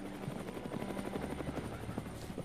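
A helicopter mustering wild Kaimanawa horses flies at a distance, its rotor producing a steady rapid thudding chop throughout, fairly faint and continuous.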